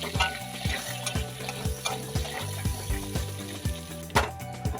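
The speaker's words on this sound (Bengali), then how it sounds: "মাছ ভাজার বাকি তেলটাতে আলুগুলো দিয়ে ভেজে নিচ্ছি।" Potatoes fry in oil left over from frying fish, sizzling steadily while a spatula scrapes and stirs the pan in a regular rhythm of close knocks.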